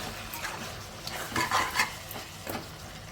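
Chicken curry being stirred in a pan, with a few quick scraping strokes rising over a soft background sizzle of frying.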